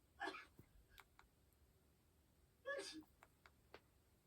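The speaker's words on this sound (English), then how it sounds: "You sneezed." Two sneezes from a person, the first near the start and the second about two and a half seconds later, each a short loud burst followed by small sniffs in a quiet room.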